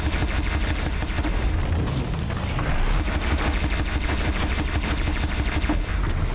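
Sustained rapid gunfire from a machine's gun during a fight in Horizon Zero Dawn, dense crackling volleys mixed with booms and impacts, loud and continuous throughout without talking.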